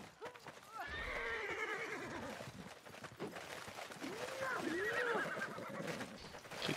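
A horse in a video game whinnies twice, once early and again in a longer, wavering call later, with clip-clopping hooves and game noise around it.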